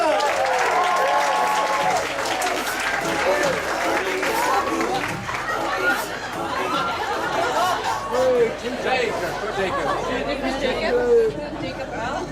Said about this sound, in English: Round of applause, please, for Jacob!